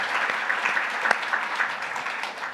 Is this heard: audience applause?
yes